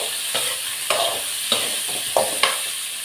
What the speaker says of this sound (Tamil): எல்லாம் போட்டு நம்ம இப்போ வதக்குவோம். இந்த எண்ணெயிலே வதக்குவோம்.